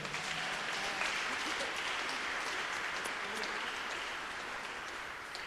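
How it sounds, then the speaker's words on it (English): Crowd applause at a music awards show, a continuous, even roar of many hands clapping that holds steady for several seconds, moderately distant, with no voice over it. "let's give him a round of applause anyway"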